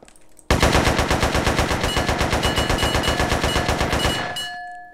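Sustained automatic gunfire from the GTA San Andreas multiplayer game SA-MP, a rapid even burst of shots lasting about four seconds, loud and close, then trailing off as a reload sound begins.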